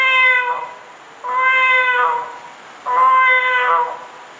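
A man mimics a cat with his voice, giving three drawn-out, clearly pitched meows with short pauses between them, close and loud.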